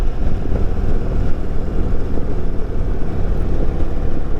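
An Indian Super Chief motorcycle cruising a curvy road in fourth gear, a loud, steady low engine drone blended with heavy wind rush against the microphone, continuous and unbroken.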